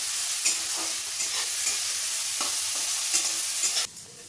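Vegetables with salt frying in a pan for an egg dish, a steady close sizzle broken by repeated scraping stirs, the sizzle dropping away abruptly near the end.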